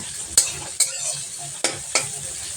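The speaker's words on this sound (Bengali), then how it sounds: "দেওয়ার পর একটু নেড়ে চেড়ে পেঁয়াজটা দিয়ে দিচ্ছি" Onion frying in a pan with cumin, bay leaf, cinnamon, cardamom and cloves, stirred in four sharp spatula scrapes over a continuous close sizzle.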